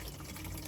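Water gushes steadily from a garden tap, a short, continuous close splashing rush.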